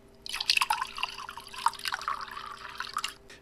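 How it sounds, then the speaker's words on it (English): Sparkling water poured into a glass gives a steady close trickle with bright fizzy splashes and drips over about three seconds, with no voices. "Then Bruce proceeds to do the same thing with his sparkling water."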